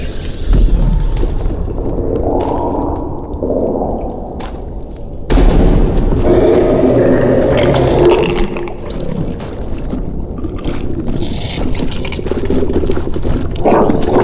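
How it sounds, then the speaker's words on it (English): Gurgling and splashing sounds in the video game The Witcher 3: Wild Hunt, loud bubbling bursts with deep booming thuds, an abrupt louder surge midway and intermittent watery churning throughout. "Gurgling noise."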